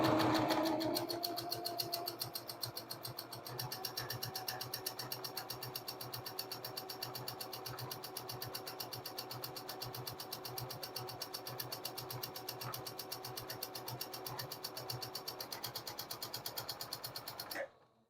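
Sewing machine stitching a keyfob wristlet, a steady rapid mechanical chatter running continuously for about seventeen seconds at an even pace before stopping abruptly.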